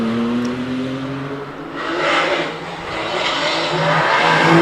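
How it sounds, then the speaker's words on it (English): Porsche Cayman hillclimb race car of about 500 horsepower accelerating hard from the start line at Prescott, engine note rising through revs with a brief tyre squeal, heard from the trackside at moderate distance. "Duncan Andrews has got lots of power from this Cayman, I believe about 500 horsepower"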